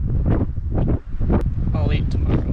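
Strong gusting wind buffets the microphone while walking outdoors on a cross-country trek, a loud, continuous roaring rumble with surging bursts and a brief lull midway.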